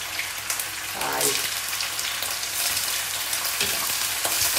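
Steady sizzling and crackling of seitan searing in a hot frying pan, with faint stirring or shifting noises partway through, no talking.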